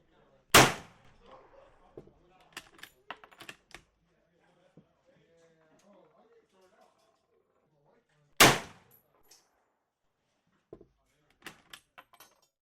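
A Gewehr 88 rifle fires twice, each a loud sharp crack, followed by metallic clacks of the bolt being cycled, with quiet gaps between.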